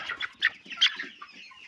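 A Cobb 500 broiler chicken squawks and clucks while being weighed, a few loud, close, agitated cries in quick succession, with no talk over them.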